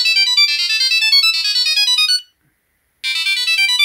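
A Samsung Galaxy SmartTag Bluetooth tracker plays its loud, bright electronic ring melody of rapid high tones, which stops for under a second and then starts again.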